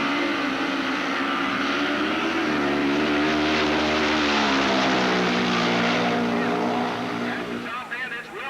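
A nitromethane turbocharged drag racing car roars through a pass at Budds Creek in 1985, a loud sustained engine drone with shifting harmonics that swells then fades near the end, under an announcer's voice.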